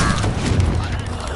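A loud, dense burst of explosive booms from the Confringo fire spell in the video game Hogwarts Legacy, sustained through the whole moment.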